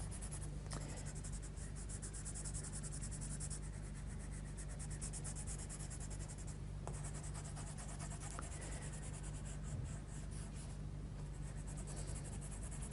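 Steady scratchy strokes of a red Derwent Coloursoft colored pencil shading across black paper, continuous and close, with brief pauses between passes.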